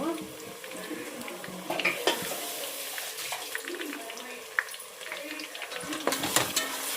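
Onions and chili masala fry in a pan while being stirred, with a soft sizzle under repeated close scrapes and light clinks of the spoon against the pan.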